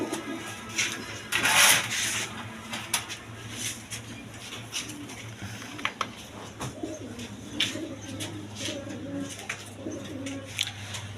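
A pair of Mili-color King pigeons coo at a pigeon sale, soft rolling calls repeating over a steady low hum, with occasional bird chirps and a brief burst of noise near the start.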